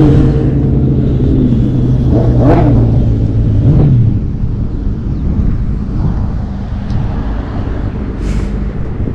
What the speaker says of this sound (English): those are the motorcycles that's going crazy